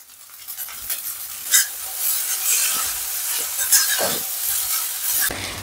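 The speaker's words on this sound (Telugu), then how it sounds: "ఈ రైస్ని కూడా వేసి టాస్ చేసుకుందాం" Cooled, dry cooked rice is tossed and stir-fried in a pan for veg fried rice, with scraping, stirring sweeps and a soft sizzle under them, all close and without speech.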